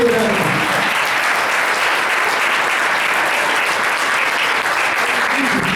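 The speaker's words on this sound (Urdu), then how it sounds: "آپ اوپر آسمان کی طرف اٹھا کے زوردار تالیاں اس معافی کے خلاف میں دے رہے ہیں۔" A church congregation claps loudly, a dense, sustained roar of applause from many hands that keeps going without a break.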